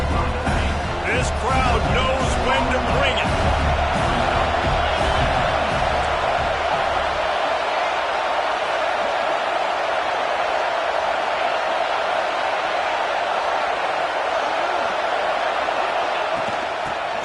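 A large crowd at an NCAA college football game roars steadily in a stadium, a dense sustained cheer that stays loud throughout. It sounds wide and distant.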